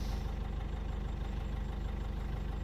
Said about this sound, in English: It's like 3-barrel supercharged racing tractor, this one, hey.